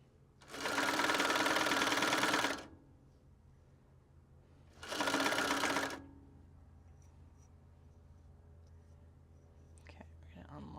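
Home sewing machine stitching Japanese fabric for a belt bag, running in two close bursts, a two-second run and then a shorter one-second run, with quiet pauses after each.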